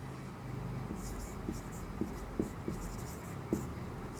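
Chalk or marker scratches and taps on a board in a classroom lesson, with a few sharp strokes and soft scraping under quiet background noise.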